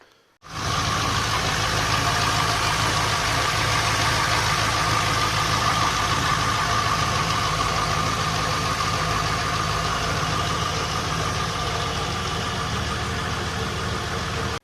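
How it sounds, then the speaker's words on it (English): Volvo 240GLE turbo fitted with an LS2 V8 and a full exhaust idles steadily at operating temperature, a loud, even, continuous rumble with no talking over it. "I just ran the engine up to temp just to evaporate any water that was in there."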